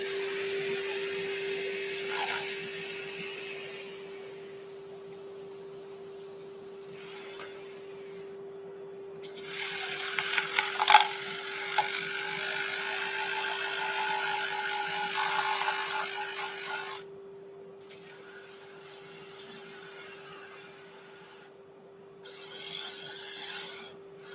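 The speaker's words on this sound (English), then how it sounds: "I'm going to go straight to my power sander, not power sander, my rotary sander." A rotary sander works a wooden egg, a steady whirring grind with a constant tone that swells louder for several seconds mid-stretch, then drops back to a quieter hum with brief pauses.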